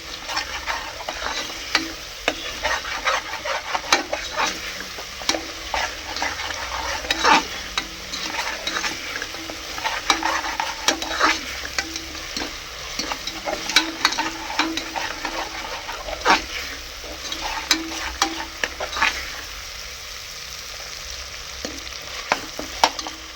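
Half a kilo of chicken fries with ground masala for Madurai salna. A continuous crackling sizzle runs under busy, irregular stirring and scraping in the pan, close and fairly loud throughout.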